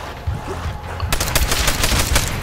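Gunfire in Call of Duty: World at War Zombies, a steady rapid automatic stream of close, loud shots filling the second half after a quieter rumbling start.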